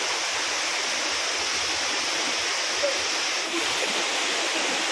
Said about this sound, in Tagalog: Pak ang Poldo Falls.